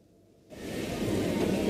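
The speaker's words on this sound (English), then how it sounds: "Torrential rain swamps the subway station in Tokyo." Torrential rain pouring into a Tokyo subway station, a dense rushing roar of water that cuts in abruptly after a near-silent moment and stays loud and steady.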